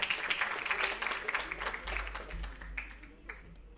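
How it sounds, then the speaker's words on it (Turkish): An audience at a Turkish film award ceremony claps as producers are called up to receive an award, a short burst of applause that swells and then thins out, with faint voices mixed in. "Alkışlarla."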